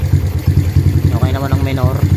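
A motorcycle engine fitted with a Class A carburetor idles just after starting, with a rapid, even low thumping close by while someone talks over it.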